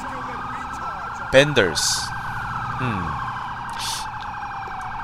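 Police car siren in the video game GTA IV, a loud wailing electronic tone sweeping steadily throughout, with brief blips and a short spoken word over it.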